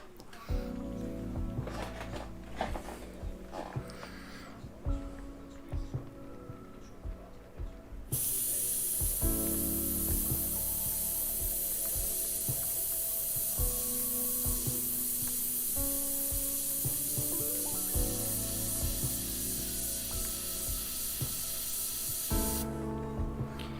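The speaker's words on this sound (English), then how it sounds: "My airbrush is spraying terribly today." An airbrush with a blockage sprays paint in a long steady hiss that starts abruptly, runs for about fifteen seconds, then cuts off, with faint background tones beneath.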